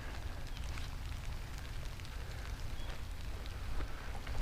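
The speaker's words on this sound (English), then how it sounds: "There comes the rain." Rain falls during a hike in Afton State Park near Hastings, Minnesota, making a steady, dense hiss with low rumble and wind underneath and no voices.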